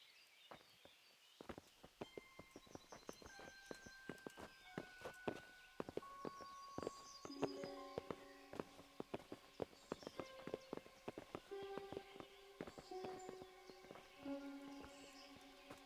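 Horses' hooves clip-clop in the medieval video game Kingdom Come: Deliverance, a steady run of sharp, close hoof strikes beneath melodic orchestral music.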